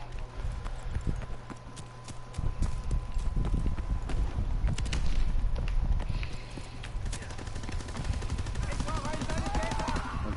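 Rapid bursts of PPSh submachine gun fire from Call of Duty: WWII, loud and close, rattle in fast strings over a steady game background of engine rumble and other distant shooting.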